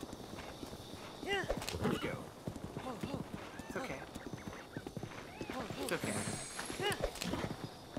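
Horse hooves clip-clop steadily in Breath of the Wild, a rhythmic trot with a whinny mixed in, while a person talks briefly over the movement.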